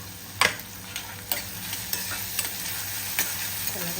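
Onions frying in a pan, a continuous close sizzle with sharp clicks and scrapes from a spatula stirring every half second or so, and no talking.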